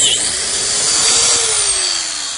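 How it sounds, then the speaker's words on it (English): A biscuit joiner whines loudly and continuously as it cuts a slot in a plywood brace, a close high-pitched motor with a slight pitch dip under load. "I'm making a slot for a biscuit to attach it to the frame."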